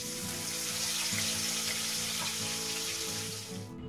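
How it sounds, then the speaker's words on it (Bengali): Pieces of boal fish frying lightly in hot oil give a steady, close sizzle that crackles continuously with no talking, then drops off abruptly at the very end. "ঠিক একই পদ্ধতিতে বাকি দুটো মাছ ভেজে তুলে নেব।"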